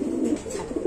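Pigeons coo at a pigeon farm, a soft throaty run of low coos and murmurs that repeat up close without a break and with no speech over them.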